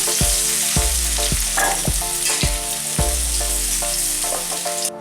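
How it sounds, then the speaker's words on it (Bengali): Potatoes frying in oil for a Bengali banana-flower ghonto, a loud steady sizzle close by, punctuated by repeated spatula knocks and scrapes against the pan at a roughly regular pace. "আলুটা আমাদের ভাজা হয়ে যাচ্ছে, এটা আমি দিচ্ছি"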